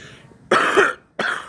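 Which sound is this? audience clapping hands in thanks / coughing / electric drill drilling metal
coughing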